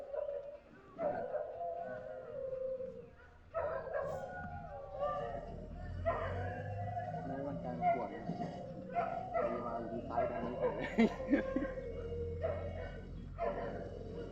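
Dogs howl and bark near a fishing pond in the late afternoon, long wavering howls rising and falling across the stretch with a few sharp barks, heard under steady conversation among people.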